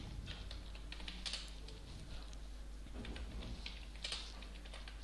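Quiet, steady typing on a computer keyboard while writing applet code: irregular soft key clicks in uneven bursts, alone with no talk.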